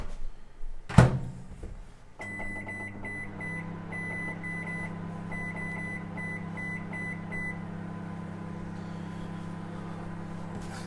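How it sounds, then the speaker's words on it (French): A microwave oven heating an aubergine for ten minutes: a thunk as the door shuts, then a series of beeps as it is set, followed by a steady low hum and whir that runs on without a break. "on va prendre cette aubergine et on va la mettre 10 minutes au micro-ondes"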